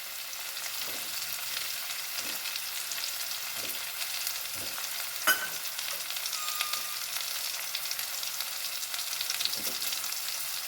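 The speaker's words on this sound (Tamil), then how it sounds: "இது ஒரு 5 நிமிஷம் நல்லா நம்ம வதக்கிடுவோம்" Vegetables sautéing in a pan for sambar, a continuous soft sizzle and fry close by, with a few light stirring scrapes and one sharp clink midway.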